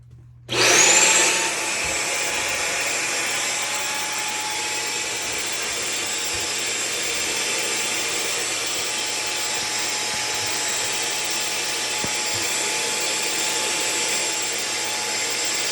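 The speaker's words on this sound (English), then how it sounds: "So let's see if we can vacuum that up." A Dyson Ball Animal 3 vacuum cleaner starts up and runs steadily over cat litter on a hallway floor, a loud constant high whine with occasional faint clicks of grit being sucked up.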